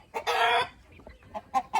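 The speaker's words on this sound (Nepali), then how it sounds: "ल यस्तो छ है हाम्रो कुखुरा, हाम्रो घरको कुखुरा।" Village household chickens cluck close by, with one long, loud squawking call followed by several short, sharp clucks in quick succession.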